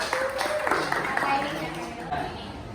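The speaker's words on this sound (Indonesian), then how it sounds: "Tepuk tangan dulu untuk Pak Irul" A class in an Indonesian language lesson claps for a student stepping forward, quick uneven hand claps under a person talking, the whole burst brief and close.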